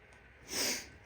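Dry rag wiping a chrome bumper during restoration, a single short swelling rub that rises and fades within a second, close and soft, with no voices.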